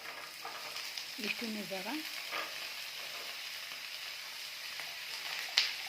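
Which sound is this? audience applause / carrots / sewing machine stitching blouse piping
carrots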